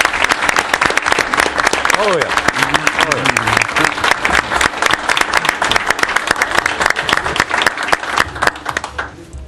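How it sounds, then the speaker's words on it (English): Audience at a town council meeting breaking into sustained applause, dense clapping filling the room for several seconds while a voice speaks briefly over it, then tapering toward the end. "Let's give them all a big round of applause"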